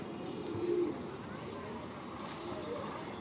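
Madrasi pigeons coo softly in a loft, a low murmuring call rising briefly near the start over faint steady background noise.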